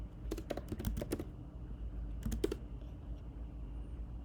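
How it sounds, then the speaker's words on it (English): Quiet close clatter of fingers typing on a computer keyboard, a quick run of key presses, a pause, then a shorter burst, over a low steady hum. "Then I will type give me some restaurants."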